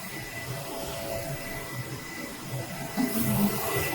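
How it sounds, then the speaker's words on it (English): FocusInc Starfire UV DTF roll-to-roll printer printing, a steady whirring mechanical hum with faint carriage movement and a slightly louder clunking motion near the end, close and continuous. "Then the printer starts to print the picture out"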